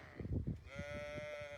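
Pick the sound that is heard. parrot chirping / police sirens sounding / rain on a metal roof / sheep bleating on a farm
sheep bleating on a farm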